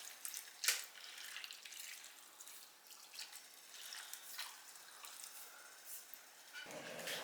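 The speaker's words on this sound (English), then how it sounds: "I'm going to put in 4 cups of hot water" Hot water is poured in for cooking, a close splashing, gurgling flow with drips, uneven in loudness and stopping abruptly near the end.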